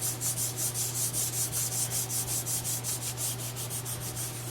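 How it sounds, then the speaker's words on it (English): A hand rubs a paper template flat onto a wooden board, producing a steady series of quick back-and-forth swishing strokes, close and fairly faint, over a low constant hum. "just rub that down so that it's nice and flat"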